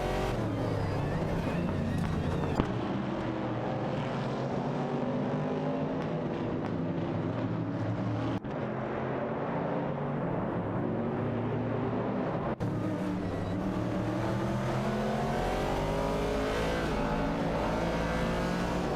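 Race car engines in an AI racing video game, featuring a Ford Falcon and Plymouth Barracudas, a loud sustained engine drone with shifting pitch throughout, engines roaring continuously.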